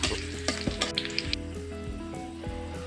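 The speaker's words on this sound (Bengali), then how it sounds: "এখন আমি পেঁয়াজ রসুনগুলোকে একটু বাদামি করে ভেজে নেব।" Onion and garlic frying with panch phoron in a pan for fish-head mashkalai dal, a steady close sizzle with tonal music running underneath and a few soft clinks of stirring.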